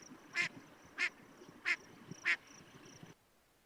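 A female gadwall duck, likely resting on a nest at night at a mountain lake, quacks four times at an even, unhurried pace, each call short and nasal against a quiet background.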